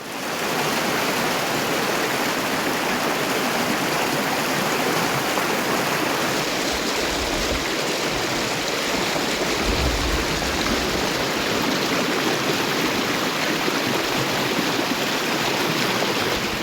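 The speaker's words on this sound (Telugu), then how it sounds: "భారీ వర్షానికి సంజామల వద్ద పాలేరు వాగు ఉప్పొంగి ప్రవహిస్తోంది." The Paleru stream at Sanjamala near Nandyal, flooded and overflowing after heavy rain, makes a loud, steady, unbroken roar of rushing water with no talk.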